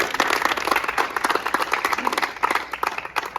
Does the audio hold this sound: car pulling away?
no